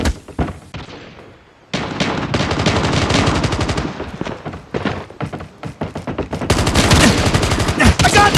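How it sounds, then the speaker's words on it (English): Rapid automatic gunfire from the Call of Duty Mobile video game, loud dense bursts of shots with brief pauses between volleys and a few heavier thumps. "I got shot!"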